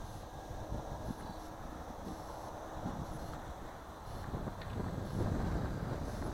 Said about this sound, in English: The wind is a little heavy on me.